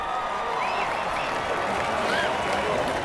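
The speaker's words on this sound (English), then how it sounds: "So please give a round of applause first and foremost to yourself" An audience applauds at an event honoring LGBTQ youth, a steady, dense wash of clapping with a few high whoops rising through it, sustained and fairly loud the whole time.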